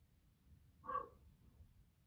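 A terrier dog gives a single short bark, somewhat distant and moderately loud against a quiet indoor background.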